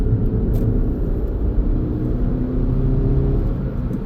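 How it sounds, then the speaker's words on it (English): Suzuki Ignis 1.2 Dualjet hatchback, 81k miles, accelerating hard in third gear on an open road: a steady, loud low engine drone and road rumble from inside the cabin, with no talk. "now the engine's warmed up, I can put my foot down. Right, in third gear"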